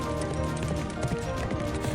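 Horses gallop in a race in an animated fairy-tale cartoon, a dense, steady drum of hooves that fills the whole stretch at an even, loud level.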